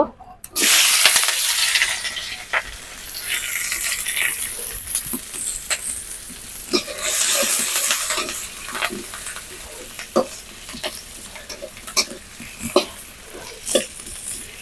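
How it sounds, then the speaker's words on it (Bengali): Onions and green chilies fry in a pan over a clay stove, a steady close sizzle with frequent scraping stirs throughout. "এখন আমি পেঁয়াজ মরিচ দিয়ে দিব"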